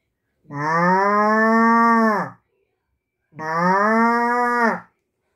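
Person imitating a cow's moo from deep in the throat while pinching the nose at a talent contest, two long loud lowing calls separated by a short pause.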